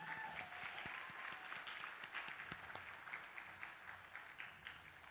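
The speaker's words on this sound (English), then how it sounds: "Let's hear a big round of applause for all our youth." Sustained applause from an award ceremony audience for young people, many hands clapping steadily with scattered sharper claps, fairly distant and even throughout.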